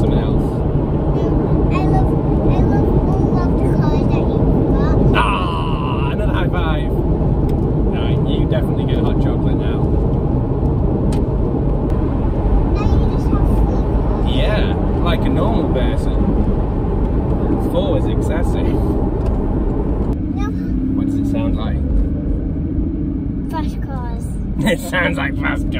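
A Porsche 981 Cayman S sports car engine drones loudly and steadily throughout, with a shift in pitch toward the end and people talking over it.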